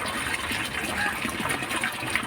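Contaminated sewage-like water gushing steadily out and running to waste in Pallavaram, Chennai, a loud continuous rushing splash, close and unbroken, with no talk over it.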